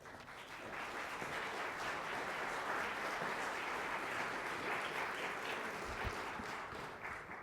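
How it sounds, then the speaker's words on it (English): A university audience applauds the provost on his introduction: a fairly soft, even wash of many hands clapping, sustained at a steady level and fading slightly at the end. "I've always appreciated when people applaud before I say anything."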